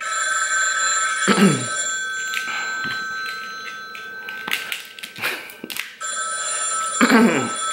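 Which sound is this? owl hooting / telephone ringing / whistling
telephone ringing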